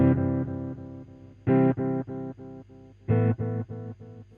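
Electric guitar played through a Boss DD7 delay set fully wet, so only the repeats sound: a series of close, fairly loud chord-like notes in uneven bursts, each echo ringing and decaying, with no voice over them.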